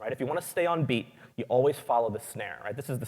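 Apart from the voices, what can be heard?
No distinct noise like a dog, phone or traffic.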